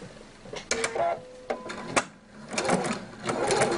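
A sewing machine sewing a plain 2.5 mm straight stitch on a wrap skirt, with short whirring runs broken by clicks and handling knocks, close and moderately loud.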